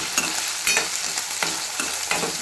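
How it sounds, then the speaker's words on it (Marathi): Cluster beans frying in oil while being stirred, a steady sizzle broken by regular scraping strokes of a spoon across the pan about every half second to a second, close and fairly loud. "त्याला चांगला हलवत राहायचं"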